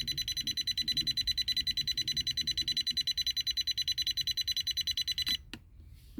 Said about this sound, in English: Pretty quickly sets off the alarm.